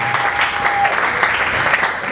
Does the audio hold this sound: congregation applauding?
yes